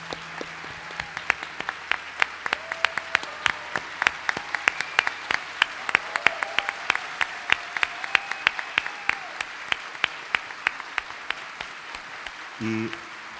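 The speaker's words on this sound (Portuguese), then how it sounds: "Queria que vocês aplaudissem Ademar" Scattered audience clapping at a live music show, sparse individual claps ringing out in an irregular rhythm over a quiet room, moderately near, with a faint low hum beneath.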